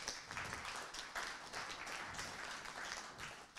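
Audience applause at a conference session on an ecological, sustainable neighborhood project, a dense, even wash of clapping from a seated crowd, fairly faint and distant, lasting a few seconds.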